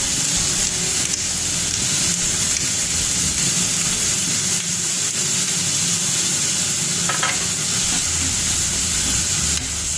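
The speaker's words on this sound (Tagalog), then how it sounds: "Yan, haluin lang." Tomatoes being stirred into a sizzling pan of seafood adobo, steady loud frying hiss with soft scraping of the spoon throughout, close and continuous without talk.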